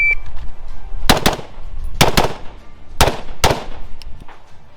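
A pistol fires rapidly, its loud, sharp reports coming in quick pairs and singles about once a second, each ringing briefly before the next shot.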